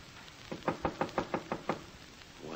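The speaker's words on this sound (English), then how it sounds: "Wise guy knocking on his own door." Knocking on a door in an old radio drama, seven firm evenly spaced knocks sounding close and alone against a faint hiss.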